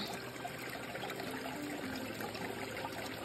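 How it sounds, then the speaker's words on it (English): Shallow stream water spilling over a small rock on the Appalachian Trail, a steady close trickle and babble that runs unbroken and alone. "So right here is a perfect little spot spilling over this little rock."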